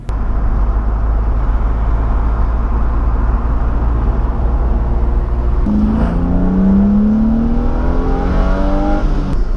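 A BMW M3 on a winding mountain road, its engine droning steadily and loud throughout, then climbing in pitch as it revs up through the gears in the second half, with a rising, repeated accelerating whine.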